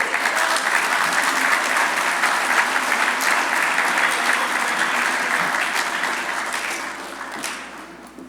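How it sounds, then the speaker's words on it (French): An audience applauds M. Dornier, the college's director general, at a graduation ceremony, a full, sustained round of clapping from a large crowd that stays strong before tapering off slightly at the end. "On peut applaudir M. Dornier."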